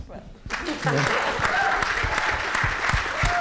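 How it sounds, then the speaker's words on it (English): An audience breaks into sustained applause after a brief quiet moment at a film festival screening, the clapping dense and continuous with some faint talk mixed in. "I like to give her a clap out now"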